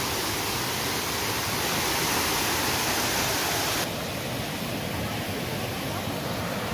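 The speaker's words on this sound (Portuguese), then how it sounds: "Tem umas 3, 4 quedas de água aí, ó." Water falls at the Cachoeira da Gleba near Sinop, Mato Grosso, in a loud, constant roar heard up close. The hiss shifts slightly in tone partway through.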